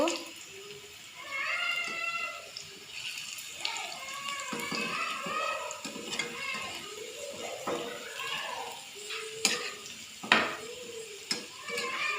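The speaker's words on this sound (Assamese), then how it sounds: "একেখিনি তেলত আলুখিনি বহাই দিলোঁ।" Potatoes sizzle steadily in hot oil while a utensil scrapes and clinks against the pan now and then.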